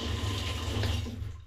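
Hot water gushes steadily from a tap into a bathtub, a continuous close rushing and splashing with no talk.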